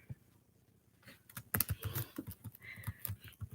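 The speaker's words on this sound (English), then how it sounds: "I'm gonna type in here." Quick clicking keystrokes on a computer keyboard, soft and close, start sparse and then settle into a denser, uneven typing rhythm.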